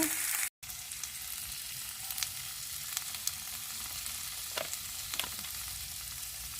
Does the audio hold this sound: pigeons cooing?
no